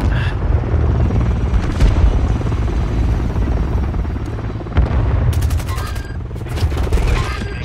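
Helicopter rotors in Call of Duty MW3 hardcore multiplayer make a steady, loud roar throughout, with scattered gunfire bursts and a couple of sharp booms cutting in near the end.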